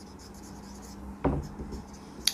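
Chalk or marker writing on a board in a maths classroom, a short scratchy burst of strokes near the middle with faint rubbing around it.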